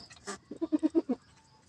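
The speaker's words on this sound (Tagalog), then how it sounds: "ang dalawa, ang anak ng aking kambing." A young goat kid gives a short call, then a rapid run of five or six close, nasal bleats in a quick stuttering rhythm, loud and near against a quiet background.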